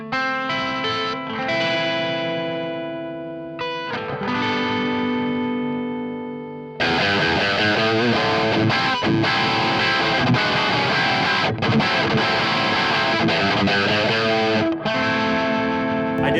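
Electric guitar playing a rock riff with a boost pedal on and moderate gain: sustained ringing chords first, then a loud, driven, chugging riff that cuts in and runs to the end.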